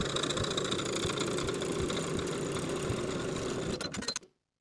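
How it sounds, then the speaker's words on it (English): A sewing machine stay stitching along the top edges of shirt cuff pieces runs in a steady, close, rapid mechanical whir with fine rhythmic needle clatter, then stops abruptly near the end. "Now we're going to stay stitch across the top edges with a 1/2 inch seam allowance"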